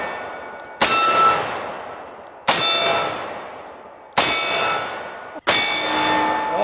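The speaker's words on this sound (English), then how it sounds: "let's finish up today's video with some one-handed shooting with each one of my favorite 500 Magnums on our steel target" Four loud, evenly spaced metallic clangs ring out as .500 Magnum bullets strike a steel target, each impact sharp and then fading in a long ringing decay.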